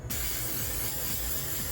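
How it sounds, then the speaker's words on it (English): Setting spray mists onto a face in one steady, close hiss that lasts the whole moment, with no talking. "Holy Grail setting spray for days like this."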